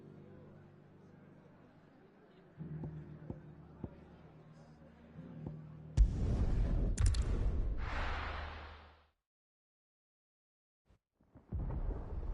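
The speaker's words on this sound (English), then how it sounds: "Sounds like thunder." Thunder rumbles in Final Fantasy XVI, a loud crack opening into a few seconds of deep rolling rumble above a quiet ambient bed, then cutting to silence before another low swell starts.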